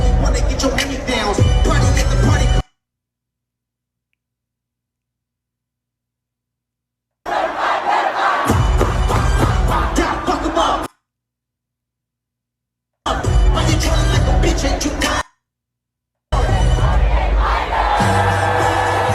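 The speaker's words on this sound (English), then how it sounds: "I want to hear what the crowd saying." Concert crowd at a show in Boston roars and shouts loudly in several bursts separated by silent gaps, a dense wall of massed voices and cheering.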